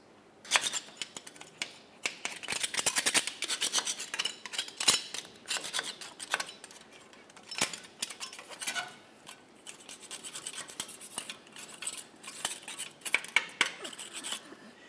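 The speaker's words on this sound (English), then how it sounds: "you just want to make sure you scrape along the sides, confirming that there's no debris that could potentially fall inside" A flat scraper scrapes along the rear differential cover of a 2004-2008 Ford F-150 in repeated bursts of close, gritty metallic scratching and rubbing, with short pauses between strokes and no talk.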